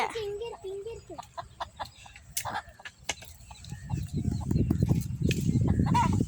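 A hen clucks softly near very small chicks, with a few short clucks early on, then a denser, louder stretch of clucking and rustling close by. Faint chick peeps and background voices can also be heard.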